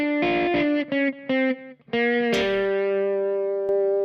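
A distorted electric guitar plays a slow lick of single notes stepping down chromatically through a minor pentatonic shape, with short separated notes at first and then a longer sustained note that rings out.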